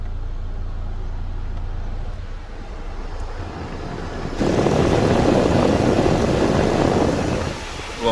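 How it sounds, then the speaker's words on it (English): The cabin ventilation fan in a Buick Regal blows hard at max, a steady close whooshing roar of air that steps up noticeably louder partway through and holds there. "you'll turn your fan up to max, and it's not going to feel like it's at max"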